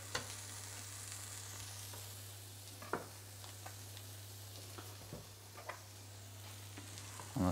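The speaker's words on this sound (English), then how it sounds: "I'm gonna add a touch of good quality grass-fed butter." Grass-fed butter sizzling in a pan beside curried cod after the hob is switched off, a soft, even hiss with a few light clicks and knocks from the pan.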